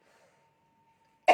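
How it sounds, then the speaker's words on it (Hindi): A single short cough bursts out abruptly at the end after near silence. "बोलने से खांसी उठ जाती है बार बार।"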